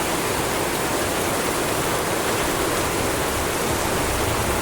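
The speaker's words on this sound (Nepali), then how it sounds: "सडकमा यस्तो भल बगिरहेछ पानी यस्तो हेभी परिरहेछ" Heavy monsoon rain pours in Kalimpong while floodwater rushes down a road, forming a dense, constant roar of water that stays at the same loud level throughout, with no voices.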